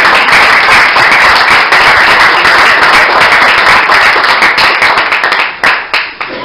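Sustained applause and clapping from an audience at a press conference on police brutality and racial injustice, dense and loud throughout before thinning and breaking into scattered claps near the end.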